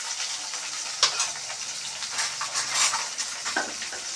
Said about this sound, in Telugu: పచ్చిమిరపకాయలు ప్లస్ ఉల్లిగడ్డలు ఇందులో వేసుకోవాలి. మంచిగా కలుపుకోవాలి